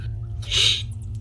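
A single sharp sneeze from a man at a tabletop role-playing game session, bursting out briefly and fairly close over a low steady hum of room noise.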